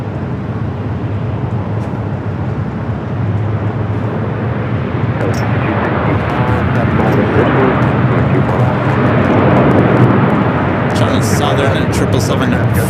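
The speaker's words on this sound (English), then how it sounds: "Southern 777 freighter touching down there on the south, 25 at the left" Boeing 777 freighter touching down at LAX on runway 25 left: a broad, loud jet engine roar that swells steadily through the landing, with a voice talking over it.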